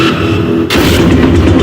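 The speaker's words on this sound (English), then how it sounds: "The northbound train demolishes the woman's car." A northbound train slams into a woman's car at a level crossing, a sudden loud heavy impact boom cutting in partway through, followed by sustained crunching, grinding roar.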